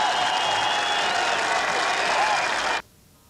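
A crowd at a women's shooting event at the Sydney 2000 Olympics applauds loudly and steadily, then the clapping stops abruptly near the end and leaves near silence.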